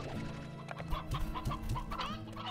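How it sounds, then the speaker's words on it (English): Roosters and chickens in Slime Rancher cluck in quick, repeated bursts over a low background hum, close and moderately loud, with several overlapping calls. "Also some roosters."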